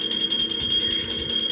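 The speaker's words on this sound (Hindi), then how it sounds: "माफ़ कीजिएगा, घंटी का आवाज़ आ रहा है" A small prayer bell rings during a home puja, a bright, high, sustained metallic tone with rapid repeated strikes, heard clearly alongside low background noise.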